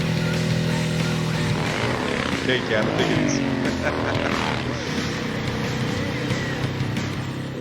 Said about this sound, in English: It has a sort of a racing engine in it compared to our production motorcycles. It has a dual exhaust system.